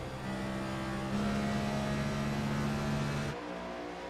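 A NASCAR Next Gen race car runs laps at Darlington Raceway in the iRacing game, its engine a sustained, fairly faint droning whine. The pitch holds steady, then shifts and drops off near the end.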